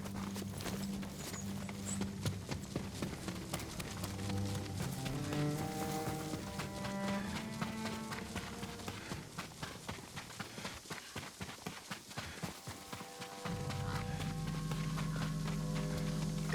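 Horse hooves clip-clopping in the video game Ghost of Tsushima, a steady run of hoofbeats under game music with sustained tones, fairly faint, continuing throughout with a deeper musical swell near the end.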